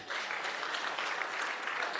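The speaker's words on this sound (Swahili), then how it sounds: "Simpigie makofi hii committee." An audience applauds a committee at a public budget dialogue forum, a steady dense clapping that holds at an even level for the whole moment.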